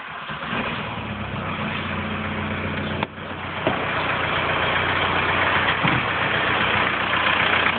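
Idling Volkswagen AFN turbodiesel car engine with a variable-geometry turbo, just after starting: a steady, loud low rumble with a brief change in level partway through, running alone without talk.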